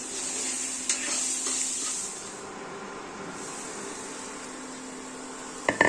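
Bottle gourd pieces are stirred as they fry in a pan for kheer, giving a continuous sizzle that is brighter for the first two seconds and then softer. A sharp clack of utensil on pan comes at the very end.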